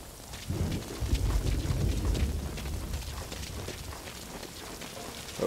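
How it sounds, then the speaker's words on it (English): Rain falls in the Metal Gear Solid V: Ground Zeroes video game as a soft, steady hiss with a low rumble swelling briefly early on, with no talk. "That rain just won't let up."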